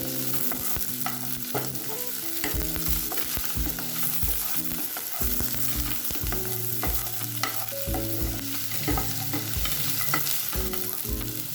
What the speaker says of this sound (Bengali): এখন খুব ভালোভাবে নাড়াচাড়া করে নেব